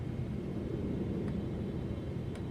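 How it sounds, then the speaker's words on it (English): Boeing 777 cockpit in MSFS 2024 with the landing gear coming down: a steady, loud low rumble and airflow roar fills the whole stretch, with a couple of faint brief clicks on top and no voices. "let's get my gear down"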